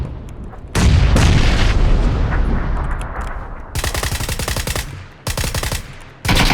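Rapid automatic gunfire in PUBG, a suppressed VSS rifle firing dense bursts with heavy booming impacts, several close loud volleys separated by short gaps, no talking.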